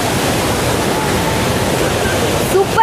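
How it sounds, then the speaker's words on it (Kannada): Hogenakkal Falls roars as a steady, loud, broadband rush of falling water heard close up and continuous throughout. "ಹೊಗೆನಕಲ್ ಫಾಲ್ಸ್ ನಾವು ನೋಡಿರಲಿಲ್ಲ, ಇದೇ ಫಸ್ಟ್ ಟೈಮ್ ನೋಡ್ತಾ ಇರೋದು"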